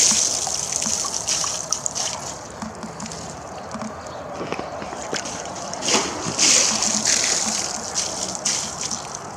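Water drains away with a continuous gushing, trickling rush, close and moderately loud, with small splashy surges and no talking over it.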